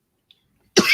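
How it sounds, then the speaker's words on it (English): A single sharp, close cough bursts out abruptly after near silence, loud and alone. "There, I coughed."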